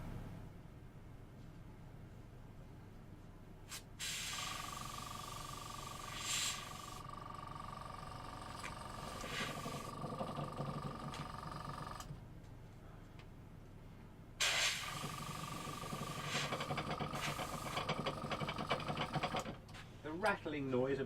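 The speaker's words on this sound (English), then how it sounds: "Rattling noise of the compressor is it moving against a tool, not to be too alarmed." A rattling air compressor shifting against a tool, heard as an ongoing mechanical rattle and hiss in bursts, with a steady drone and spells of louder running.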